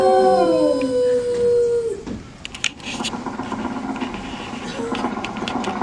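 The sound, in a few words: dog howling in Disney Carousel of Progress show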